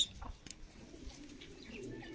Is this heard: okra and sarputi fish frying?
no